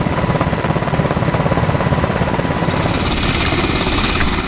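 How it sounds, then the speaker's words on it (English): An HS-60 Seahawk helicopter gives off a loud, steady, rhythmic rotor chop with a constant engine whine underneath, and no voices. "The officers, with the classified hard drives in hand, soon board an HS-60 Seahawk helicopter and leave Nimitz"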